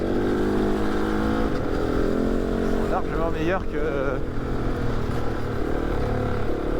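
A rally motorcycle engine drones steadily and loud throughout, close to the rider on an off-road course, with a brief rising rev in the middle and someone talking over it.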